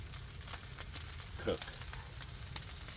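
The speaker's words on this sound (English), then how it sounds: "as that's sizzling, that there will definitely cook." Steady crackling sizzle of bacon frying in a pan, continuous and close, with a few brief louder pops.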